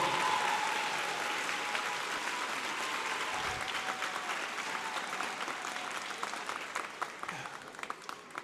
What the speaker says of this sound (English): let's all give a big round of applause for all the Maker families here today